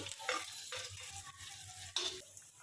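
Chillies and garlic sizzle in hot oil for a paneer chilli dish, a steady frying hiss punctuated by louder bursts as pieces are added and stirred, close by and with no talking.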